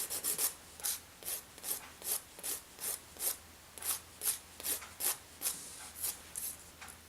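A file is drawn back and forth over the edges of dip powder nails to round the corners, making a quiet, rhythmic scratchy rasp of about twenty short, even strokes, close up and alone.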